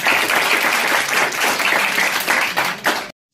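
Students at an Indian Army drug-awareness event applaud. The clapping is loud, dense and sustained, with many hands close by, then cuts off abruptly just before the end.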